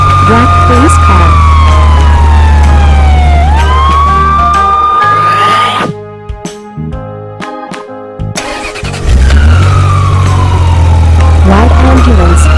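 A police car siren wails loudly and up close, its tone sweeping up and down, cutting out briefly in the middle before resuming over a low engine rumble.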